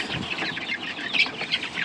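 A group of Andalusian bantam cockerels clucking in a pen, a close, busy cluster of overlapping short calls with a few sharper squawks, no voices.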